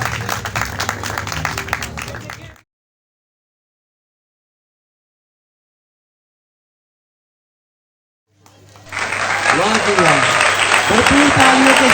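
Wedding guests applaud an entrance at a marriage ceremony, crowd clapping with voices in two bursts separated by a long silent gap, the later part louder and fuller with voices.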